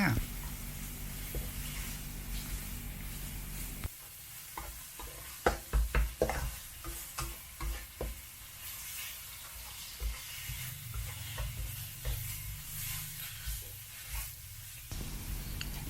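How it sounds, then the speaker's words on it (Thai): Minced pork stir-frying in a pan for stir-fried dill with pork, a steady sizzle broken by scraping spatula strokes, with a low hum at the start and end and speech over it. "จากนั้นเราก็ทำการผัดเลยค่ะ ผัดไปเรื่อยๆนะคะ"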